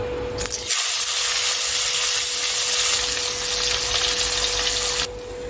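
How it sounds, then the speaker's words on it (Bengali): Puti fish frying in hot oil in a wok, a steady loud hiss and sizzle that starts abruptly and holds for several seconds before cutting off. "সবার প্রথমে আমি পুঁটি মাছগুলোকে ভেজে নিচ্ছি"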